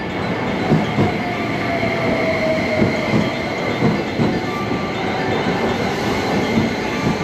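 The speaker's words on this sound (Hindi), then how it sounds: "ये हमारी ट्रेन में ये हारुका लिमिटेड एक्सप्रेस आ रही है।" A Haruka Limited Express train pulling into a station in Japan, a loud, steady rumble of wheels and rail noise with rhythmic clicking throughout, no voices over it.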